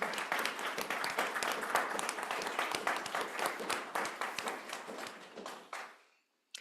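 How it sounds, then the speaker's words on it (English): A crowd applauds with dense, lively clapping that holds steady for several seconds, then thins out and fades to silence at the end. "Let's give them a round of applause."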